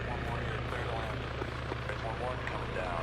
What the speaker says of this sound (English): it sounds like we're having some helicopters spool off.